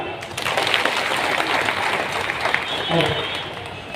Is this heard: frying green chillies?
no